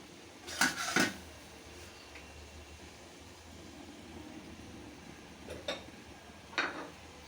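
Fish with spices is sautéed in a pan for a potato and tomato curry, with a low background sizzle and a few sharp spatula clanks against the pan, two close together early and two more later.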